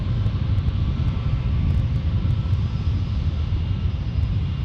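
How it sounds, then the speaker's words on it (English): Japan Airlines Boeing 787 Dreamliner taking off at San Diego airport, a steady, loud jet engine roar with deep rumble holding constant throughout, no voices. "Off goes Japan Airlines in the Dreamliner"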